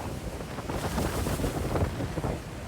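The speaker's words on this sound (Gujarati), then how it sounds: "જુઓ કેટલો મસ્ત ધોધ છે અહીંયા" Niagara Falls, on the border of Canada and the USA, gives a broad, distant rushing roar mixed with gusty wind buffeting the microphone, with no voices.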